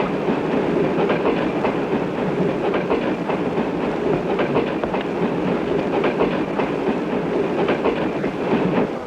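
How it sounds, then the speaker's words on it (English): A train runs steadily on rails in the 1972 horror film Horror Express, a loud continuous rumble with rapid, rhythmic clickety-clack of wheels over joints throughout. "Stop the train!"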